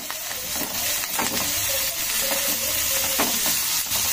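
Onions and green chilies fry in hot oil for a Telugu paniyaram dish, a steady loud sizzle with occasional scraping stirs of the spoon in the pan.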